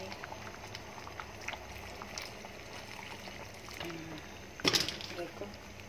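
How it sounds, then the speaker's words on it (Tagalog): Water added to a simmering mung bean and shrimp dish with spinach, heard as soft bubbling and a brief pouring splash near the end, with quiet talking over the cooking. "dagdagan natin ng konting tubig"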